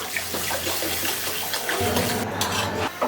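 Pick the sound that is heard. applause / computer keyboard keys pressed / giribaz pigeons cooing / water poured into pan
water poured into pan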